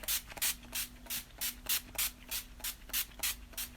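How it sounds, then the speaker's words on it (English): NYX Dewy setting spray misted onto a face in about eleven quick, evenly spaced bursts, each a short airy hiss close to the mic, with no talking. "So I'm just going to spray my whole face."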